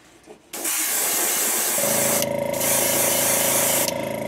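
Paint spray hisses steadily as a topwater popper fishing lure in a frog pattern is sprayed, with a continuous close hiss and a droning motor hum underneath after the start.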